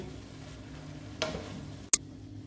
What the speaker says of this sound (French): je mélange bien à feu moyen